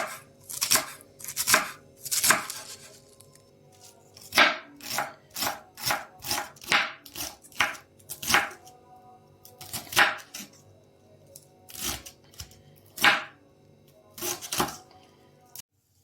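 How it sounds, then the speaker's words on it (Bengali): A knife chops cabbage on a board for pakoras in close, crisp strokes, falling in short irregular bursts with brief pauses between them. "বাঁধাকপিটা কেটে নিচ্ছি"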